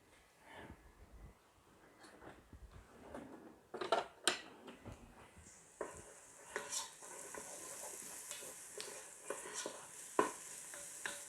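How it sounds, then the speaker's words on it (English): Mushrooms and onions sauté in a Ninja Foodi pot, giving a quiet steady sizzle. Intermittent stirring scrapes and clicks sit over it, growing a little louder toward the end. "we're going to saute this for a little while"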